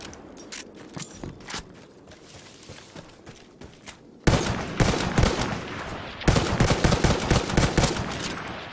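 Bursts of rapid gunfire from the Battlefield 1 video game during a Conquest match, starting as quieter, scattered shots and then turning into loud, dense volleys of close machine-gun fire with mechanical clatter.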